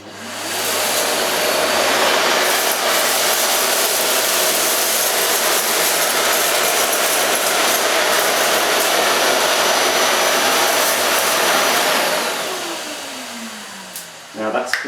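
A Hoover Silent Energy bagged vacuum cleaner runs on maximum power, a loud, steady whoosh that holds for about twelve seconds and then winds down, ending in a few brief knocks.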